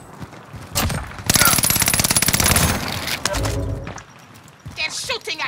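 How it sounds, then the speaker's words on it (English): Gunfire in Call of Duty Warzone, with sustained bursts of rapid automatic shots crowding the middle of the clip, then scattered shots near the end, mixed with game sounds and speech over the top. "They're shooting at me."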